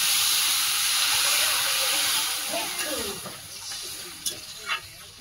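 Water hits sautéed bathua greens and pumpkin in a hot pan, making a loud, close sizzling hiss that slowly fades, with a faint voice briefly underneath.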